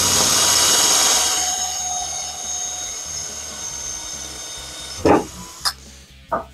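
A power drill fitted with a Parkside 4 mm wood bit spins at high speed into wood, a loud steady whine for about five seconds, followed by a few short clunks and knocks as it stops.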